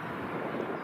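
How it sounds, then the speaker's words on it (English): A TUI Boeing 737-800 airliner taxiing at Birmingham Airport, heard as a steady, broadband engine rumble with wind noise, moderately distant and continuous, no voices. "737-800 taxiing out for Arrecife."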